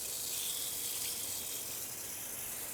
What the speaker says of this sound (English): So I'll go ahead and turn on the water aspirator at this point.